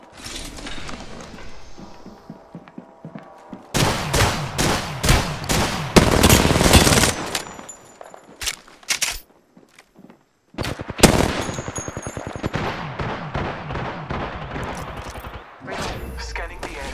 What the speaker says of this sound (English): I'm taking shots. I am taking fire.